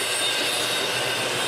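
An intermodal freight train rolls steadily past at close range, a continuous loud roar of wagons and wheels with faint squealing and no pauses, filling the whole stretch on an otherwise quiet Saturday at trackside.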